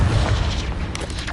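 Confringo explosion spell cast in Hogwarts Legacy, a dense, booming burst with rumbling low end that stays loud through the short moment, trailed by crackling game effects.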